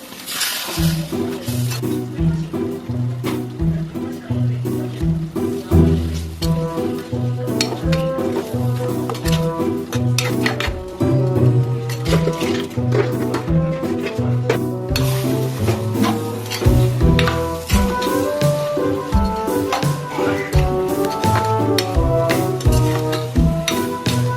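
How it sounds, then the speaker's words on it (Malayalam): Crab is stirred into a simmering curry gravy for a homestyle Kerala crab curry: a steady soft sizzle with repeated scraping and clinking of a spoon against the pot, under background music. "മാറ്റി വെച്ച് ഞണ്ട് ഈ ഗ്രേവിയിലേക്ക് ഇടാം. അത് അല്പനേരം ഗ്രേവിയിൽ കിടന്നിട്ട് നമുക്ക് ഇളക്കണം."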